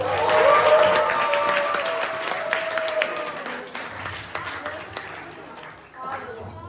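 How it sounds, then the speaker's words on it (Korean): A youth winter retreat congregation claps during a sermon, a loose burst of applause and crowd noise that fades after a few seconds while a voice speaks over it. "박수 한번"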